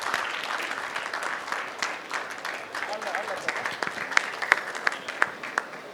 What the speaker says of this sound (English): So, students, a round of applause for the chefs.